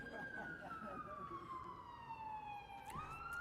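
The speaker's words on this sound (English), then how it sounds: "We'll pause for the ambulance." An ambulance siren wails with a long, slowly falling tone, then abruptly jumps back up, heard at a moderate distance over low background noise.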